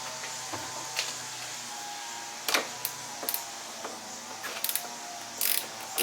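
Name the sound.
1/4 inch drive ratchet tightening battery cable nuts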